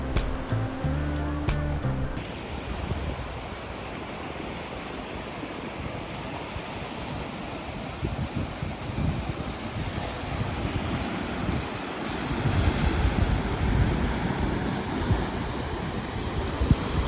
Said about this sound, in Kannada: ಈ ಅಲೆಗಳ ಅಬ್ಬರನ ಕೇಳೋಕ್ಕೆ ಇಷ್ಟ ಆಗುತ್ತೆ